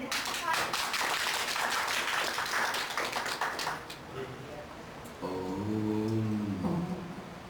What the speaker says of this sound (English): Please everyone a big clap for him.